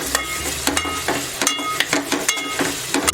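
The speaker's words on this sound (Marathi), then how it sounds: "छोटा टोमॅटो घालून घेते आणि सर्व एकदा व्यवस्थित परतून घेऊया।" Grated ginger and small tomatoes sautéing in a kadhai: a constant sizzle with repeated scraping strokes of a spoon against the pan, roughly a stir every half second, close and loud, no voices.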